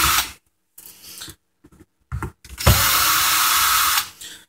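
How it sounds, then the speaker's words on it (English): A power drill whirs in short on-off bursts separated by silences, then one sustained high-pitched run, close and loud, while taking apart a hard drive. "I'm going to cheat and use a power tool"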